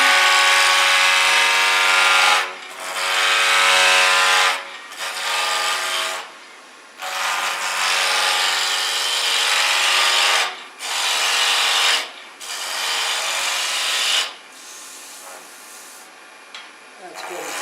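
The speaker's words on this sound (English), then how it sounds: "we're going to use a spindle roughing gouge, and we're going to rough this right down." A spindle roughing gouge cuts a wood spindle turning on a lathe, producing loud, continuous rasping bursts broken by short pauses as the tool is lifted and re-engaged.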